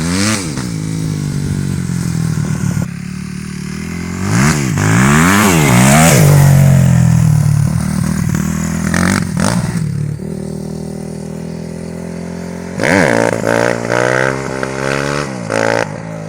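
A Kawasaki KX250F dirt bike with its stock exhaust revs loudly and close by, rising and falling through repeated throttle blips before settling into a lower, rougher idle.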